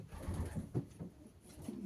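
Soft, low cooing of breeding homing pigeons, several overlapping throaty coos close by in a quiet setting.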